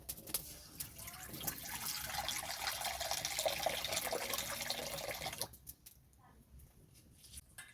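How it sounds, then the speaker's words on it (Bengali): Water pours steadily into a kadai on a lit stove while carrot sondesh is being made, a continuous close splashing rush for about five seconds that then cuts off, leaving only faint drips and small handling noises. "কড়াতে দিয়ে দেবো জল"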